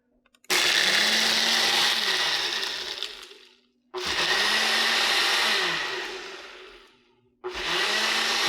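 A Ninja blender on its smoothie setting roars loudly in three long bursts, each several seconds long, with the motor whining and then tapering off before a short pause and a fresh start.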